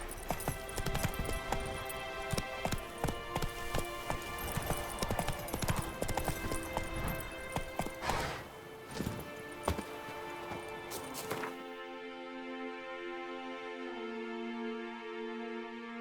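Horse hooves clip-clop steadily in The Witcher 3 over a bed of game music, continuous and fairly close, with the trotting stopping near the end while the music carries on alone.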